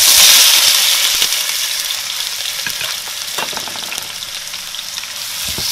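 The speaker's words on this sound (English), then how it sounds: "I am going to fry up the onion along with the spices and the garlic and the ginger" Onion, garlic, ginger and spices hitting hot oil in a pot, a loud close sizzle that settles into a steady frying hiss with occasional stirring scrapes.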